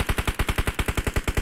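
Rapid automatic gunfire from a video game, a loud, steady burst of about fifteen evenly spaced shots that continues without pause and with no talking.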